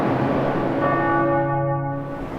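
A large church bell in the tower of the Catedral da Sé rings loud and close, its rich sustained tone humming and slowly fading.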